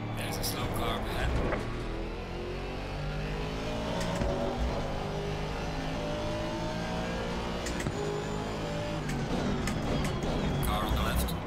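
Race cars in the racing game Assetto Corsa Competizione, engines droning and revving steadily as the pack runs under a yellow flag, with someone talking over the continuous motor noise.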